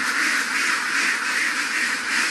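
Ducks at their duck house give off a steady, fairly loud stream of overlapping quacks and nasal calls, close by and continuous with no talking.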